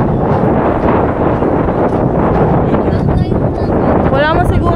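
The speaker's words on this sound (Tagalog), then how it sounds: "Parang may hangin." Wind gusts across an outdoor campsite as a steady, broad rushing roar that fills the whole stretch, with voices present in the background.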